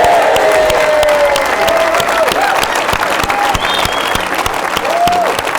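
A conference audience at a tech summit applauds steadily throughout, with crowd noise and scattered cheering and whistles filling the hall at a loud, even level.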